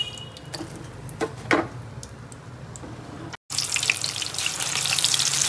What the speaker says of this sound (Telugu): మళ్ళీ ఒక 5 మినిట్స్ వీటిని ఫ్రై చేసుకోవాలి